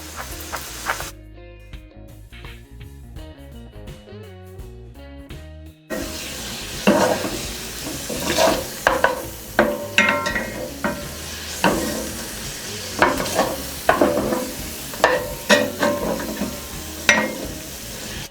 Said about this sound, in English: I'm going to use my mortar and pestle and just sort of make a